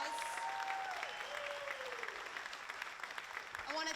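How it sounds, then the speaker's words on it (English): A theater audience claps for a while, a steady wash of applause with a few faint whoops and tones over it, moderately distant and fairly quiet. "Give them a big round of applause."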